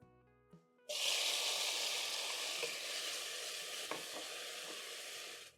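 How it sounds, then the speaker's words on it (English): Minced garlic and onions sauté in a hot pan, a loud, steady sizzle that starts abruptly and holds throughout, with a few faint stirring scrapes and no talking. "add in 4 cloves of garlic, which are minced. Saute together with the onions."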